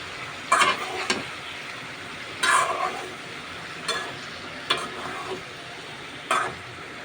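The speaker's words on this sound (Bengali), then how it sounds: "নলডোগা সিম এইভাবে ভাজি করে খেয়ে দেখবেন ভালোই লাগে" Small nolldoga beans frying in a pan, a low continuous sizzle punctuated by five separate scraping stirs spaced a second or so apart, close and clear with no speech.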